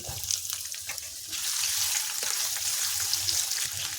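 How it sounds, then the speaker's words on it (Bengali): Oil with cumin sizzles steadily in a pan, the crackle jumping louder partway through as chopped ginger is added, with occasional faint stirring knocks underneath. "এখন এর মধ্যে আদা কুচিটা দিয়ে দিচ্ছি"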